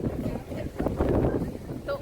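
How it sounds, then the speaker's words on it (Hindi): Strong wind ahead of monsoon rain at Dona Paula viewpoint in Goa buffets the microphone, a continuous low rushing roar with gusty swells. "बहुत तेज़ हवा चल रही है"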